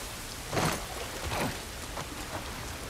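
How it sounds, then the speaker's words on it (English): Steady video game rain hisses and patters throughout, with a few louder gusts of splashing as it falls. "This rain ain't gonna do us any good."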